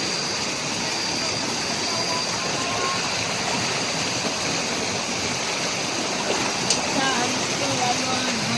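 A waterfall in the Konkan countryside at night roars as a loud, steady, unbroken rush of falling water that fills the whole scene without pause.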